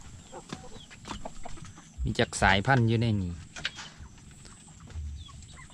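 Chickens in a coop built over a fish pond cluck and call, one loud squawking burst standing out mid-clip, with someone talking over the birds throughout.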